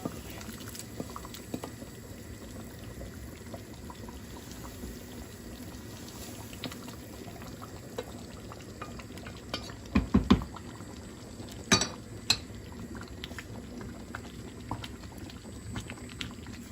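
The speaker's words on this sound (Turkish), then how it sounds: "Bu 5-6 dakika daha kaynasın." A pot of Şile regional stew simmers and boils on the stove, a soft, steady bubbling with a few sharper pops and clinks partway through.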